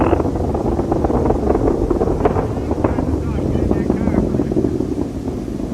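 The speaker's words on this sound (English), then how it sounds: "Engines are now beginning to throttle back up." Space Shuttle Columbia's engines roar during launch ascent as a steady, loud, broadband rumble that continues throughout, with faint voice traffic mixed in.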